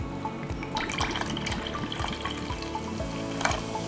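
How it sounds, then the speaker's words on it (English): Hickory smoked marinade pours and trickles from a bottle, a steady close liquid stream with small splashy drips, no talking over it. "Got some hickory smoked marinade."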